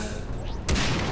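Gunfire in Far Cry 3: a sudden loud burst of shots erupts partway through, following a brief stretch of game noise, close and sharp.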